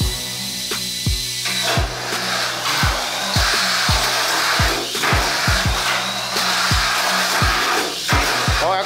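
Shadow Shark Italia Special mini RC car with its motor running loud and close, a continuous whine broken by a series of regular sharp rising chirps as the speed surges.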